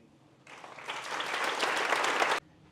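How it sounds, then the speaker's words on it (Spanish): Applause from the audience at an anniversary ceremony for a scientific institute begins abruptly, swells into steady, dense clapping and then cuts off sharply after about two seconds. "Enhorabuena y un fuerte aplauso a todos."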